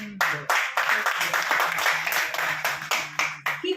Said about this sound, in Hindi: तालियों द्वारा मुझे सहमति प्रदान करिएगा